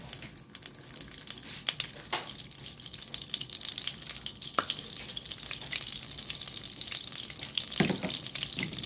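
Butter melting in hot olive oil in a frying pan, giving a steady close sizzle with scattered sharp pops and crackles throughout.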